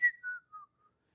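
A person whistles a short descending tune in imitation, three or four brief clear notes fading quickly into silence, close and alone.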